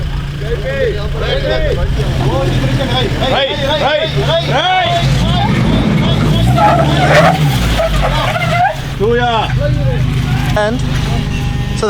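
An off-road 4x4 skids and revs on a rally trail, the engine roaring loudly and steadily while tires squeal in repeated swooping bursts, with excited voices chattering over it throughout.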